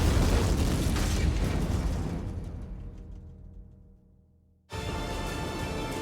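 A candy-fueled rocket launches with a loud, sustained roaring burst of thrust that slowly fades over several seconds into near silence, then a second loud roar cuts in abruptly.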